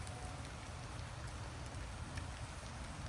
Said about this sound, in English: Oh, go away, rain. You're filling my plate up